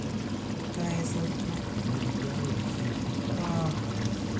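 A steady, close bubbling and gurgling of chicken curry simmering in a pot, continuous and even throughout with no pauses.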